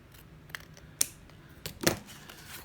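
Scissors snipping the corners off sheets of craft paper, a few quiet, sharp, separate clicks and cuts close by against a faint background.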